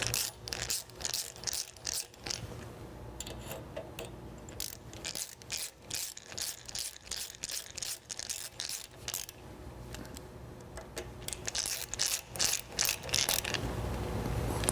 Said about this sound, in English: We'll go through and screw that into place.